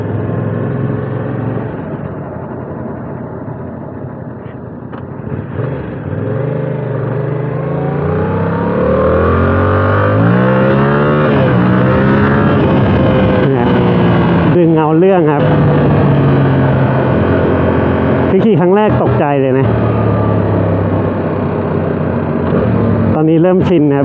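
A Yamaha YZF-R7 700cc CP2 two-cylinder motorcycle on a ride, its engine loud and close, revving up through the gears with rising pitch and brief drops between shifts, and a hard throttle blip near the end.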